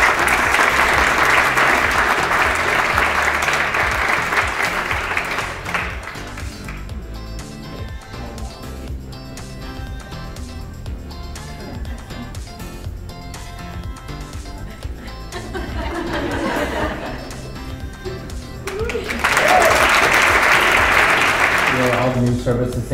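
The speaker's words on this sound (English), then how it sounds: "Let's give them a round of applause." Loud applause from a crowd bursts out, fades into speech in the middle, then swells again into strong clapping near the end.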